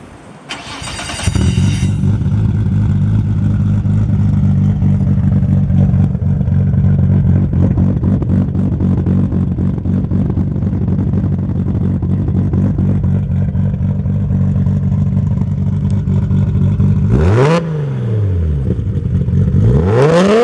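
Nissan Skyline R32 GTR with a big single turbo and aftermarket exhaust cranks over and fires, then settles into a loud, steady rumbling idle with occasional sharp revs rising and falling near the end.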